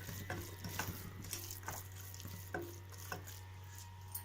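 Fresh peas fry in oil in a pan for a Tamil pea kurma, giving a low steady sizzle under occasional sharp scrapes and stirs of a spoon, with a constant low hum in the background.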